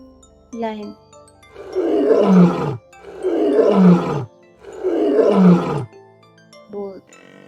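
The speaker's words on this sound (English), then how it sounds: "lion," A lion roars three times at an even pace, each roar a deep, rough swell lasting over a second. Short, higher grunting sounds come before the first roar and after the last.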